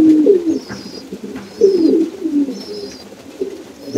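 Domestic pigeons kept for breeding coo in repeated low throaty phrases, close and clear, in short bursts roughly every second or so over a quiet background.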